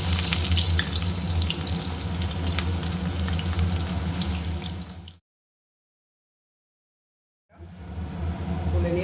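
Bori lentil dumplings and onion fry in a pan with a loud, steady sizzle that cuts out for a couple of seconds and then resumes.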